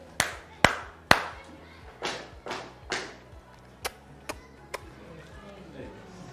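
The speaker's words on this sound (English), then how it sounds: "Let's learn this clap. The German clap." A group claps out the German clap rhythm at a basic school teacher learning session: three sharp loud claps, then softer thudding beats, then three quicker light claps, a structured pattern performed in unison.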